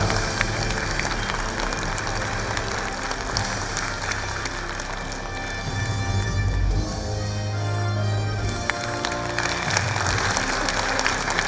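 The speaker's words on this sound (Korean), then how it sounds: "다시 한번 감사의 박수를 부탁드립니다" Sustained audience applause at a volunteer awards ceremony in Eumseong County, a dense steady wash of many hands clapping under a low background hum, lasting throughout with a slight swell toward the middle.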